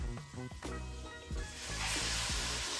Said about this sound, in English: We're gonna let that melt, sizzle, and just start to brown